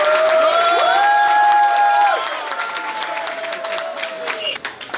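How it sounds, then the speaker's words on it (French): Audience ovation and applause for an honoree at a Côte d'Ivoire embassy fraternity night gala, steady dense clapping filling the room with cheering and whoops over it, easing slightly toward the end. "En ovation, ça t'applaudit."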